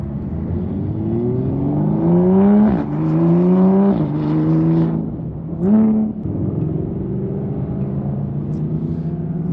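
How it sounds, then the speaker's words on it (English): Sports cars accelerating hard on a combined road course and drag strip during a track day, engines revving loudly through rising gear sweeps with shifts, one car after another, close and strong, with no talk. "There's racing going on over there."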